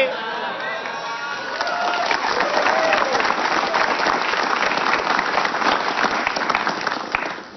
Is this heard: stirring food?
no